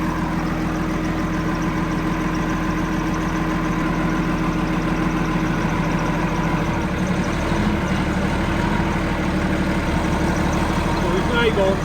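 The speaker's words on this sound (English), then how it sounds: "You hear the engine labour now" A John Deere 4440 tractor engine drones steadily close by, labouring under hydraulic pump load, its low rumble heavy and strained throughout, with no break in the noise.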